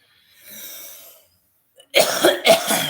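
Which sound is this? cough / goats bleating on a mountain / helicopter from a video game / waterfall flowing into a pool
cough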